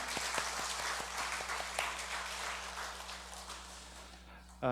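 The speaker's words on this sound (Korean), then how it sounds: "우리 박수로 환영하도록 하겠습니다" Applause from a church congregation welcoming a new soloist during a Sunday service, scattered at first and then filling in steadily, moderately distant, over a low steady hum.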